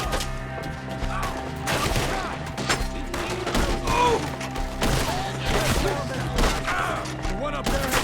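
A chaotic firefight in Red Dead Redemption 2, with dense overlapping gunshots and thuds crackling almost nonstop, mixed with shouting voices and game music underneath.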